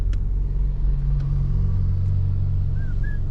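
A car drives through Macau toward the Venetian Casino, a steady low engine and road rumble continuing throughout, with faint distant traffic and a couple of thin high squeaks near the end.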